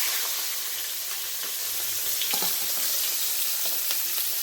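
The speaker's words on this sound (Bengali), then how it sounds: "পেঁয়াজটা একটু ভালো করে ভেজে নিতে হবে।" Onions frying in hot oil with green chillies for a homemade biryani, a steady close sizzle running throughout with a few brief scraping stirs and crackles, no voices.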